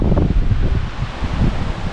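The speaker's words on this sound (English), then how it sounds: "Very windy day." Strong wind blows by the River Dee at Llandderfel while fly fishing, a loud rough rush of gusts buffeting the microphone with no voices.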